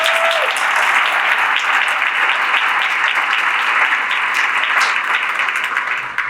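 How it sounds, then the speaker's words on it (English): An audience at an evening meeting at Collin College breaks into a loud, sustained round of applause, dense clapping filling the whole stretch and tapering slightly at the end. "Give them a round of applause, please."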